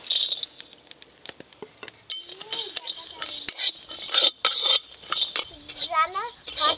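Whole spices such as cloves, coriander seed, cumin, cinnamon bark and cardamom being dry-roasted in a pan for a potato curry, with metal spoon scraping, stirring and clinking, interrupted by brief voices.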